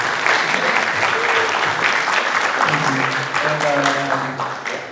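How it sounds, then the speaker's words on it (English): Loud audience applause at a university hip-hop guest lecture, steady crowd clapping throughout with some cheering voices and talk partly over it, tapering slightly at the end. "clap it up, clap it up"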